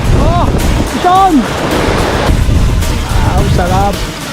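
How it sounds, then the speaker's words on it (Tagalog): Strong ocean waves breaking on a shore under a forceful northeast monsoon wind, a loud continuous surging roar with gusty wind noise, while a voice calls out intermittently over it. "Grabe, lakas ng alon dito."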